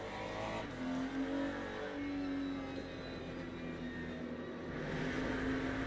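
An Aston Martin Vantage race car engine in the Le Mans Ultimate racing game drones steadily on board, rising and falling slightly in pitch as it revs, heard alone and fairly loud throughout.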